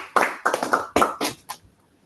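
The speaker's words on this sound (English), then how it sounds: "Feel free to clap." Audience at a Toastmasters club meeting breaks into a short burst of hand clapping, several loud bursts over about a second and a half that quickly fade out.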